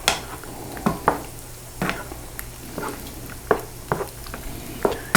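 Thickening flour is sprinkled into tomato gravy in a pan and stirred in, with a soft continuous simmer broken by repeated scraping and clacking strokes of the spoon against the pan.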